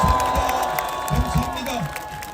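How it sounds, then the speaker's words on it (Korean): An outdoor crowd at a national prayer rally and march near the National Assembly claps in thanks to police officers, the applause mixed with scattered cheers and murmuring voices close by. "오늘 우리 집회를 위해서 지금까지 집에도 돌아가지 않고 있는 우리 경찰관 분들께 감사의 박수를 드리겠습니다."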